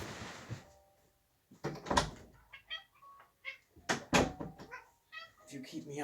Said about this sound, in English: That's my cat on my door, if you can hear that.